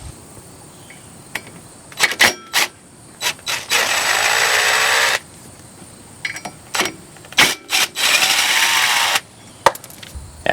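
A power drill backs Phillips screws out of the rear brake rotor on a 2008 Hyundai Elantra 2.0L, with two sustained whirring runs and short trigger bursts and clicks between them, close and loud, no speech.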